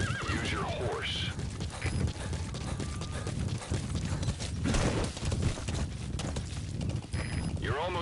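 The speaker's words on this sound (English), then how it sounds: "Planning to walk the whole wilderness on foot? Use your horse." In a video game, a horse whinnies loudly and its hooves clip-clop steadily, with a second neigh near the end, while game dialogue and other speech run throughout.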